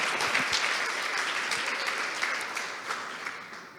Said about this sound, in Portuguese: Pode aplaudir, eu sei.